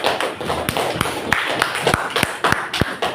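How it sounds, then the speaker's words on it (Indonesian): A classroom of Indonesian junior high students claps for a classmate, with sharp, loosely rhythmic handclaps and thumps coming close together from a small group. "Tepuk tangan dulu dong untuk si Sarah."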